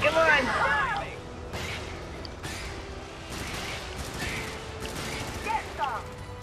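Gunfire in the Helldivers video game: a dense opening burst followed by scattered sharp shots and rattling volleys, steady and mid-distance under a continuous battle din.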